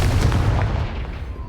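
The Confringo explosive spell goes off in Hogwarts Legacy, a single short, loud burst with a deep thump that decays quickly.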